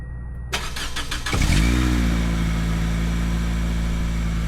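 A car engine with a custom-welded exhaust cranks with a few quick starter bursts, then catches and settles into a loud, deep, steady idle with a throaty rumble.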